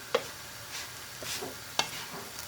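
Vegetable noodles fry and get stirred in a pan, with a faint background sizzle and two sharp utensil scrapes against the metal, close and quiet, with no talk.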